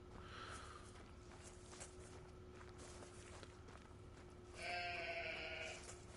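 A sheep in a video game bleats once, a wavering nasal call late in the clip, over faint ambient noise and soft rustling steps.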